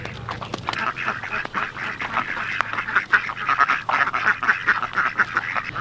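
Slowed-down goose honks, elongated and wobbly, repeating in a loose rhythm close by over a low hum and rustling.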